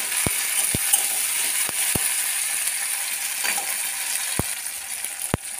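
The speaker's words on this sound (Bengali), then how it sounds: "চিকেনটা দিয়ে দেবো।" Marinated chicken added to a pan of fried onion and tomato sizzles and fries steadily, with a continuous bright crackle and occasional sharp clicks of a utensil against the pan, close and without talk.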